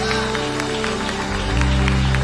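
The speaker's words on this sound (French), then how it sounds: "un bel applaudissement" A church congregation applauds loudly over continuous organ or keyboard chords, the clapping dense and sustained throughout while the music swells.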